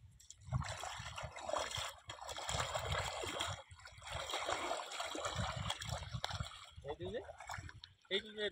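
Brahmaputra floodwater flows near Bogibeel in a steady, broad rushing and trickling wash, loud and continuous, with a voice heard at times.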